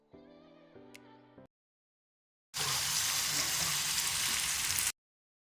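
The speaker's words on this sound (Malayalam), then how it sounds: "ഞാനിതാ കുറച്ച് കറിവേപ്പിലൊക്കെ ഇട്ട് കൊടുത്ത് അപ്പോഴേക്കും നമ്മുടെ മീനിൻ്റെ ഒരു ഭാഗമൊക്കെ നല്ല മൊരിഞ്ഞ് വന്നിട്ടുണ്ട്." Fish fries in a pan with vinegar and curry leaves, giving a loud, close, hissing sizzle for a couple of seconds that follows a brief tonal sound and a pause.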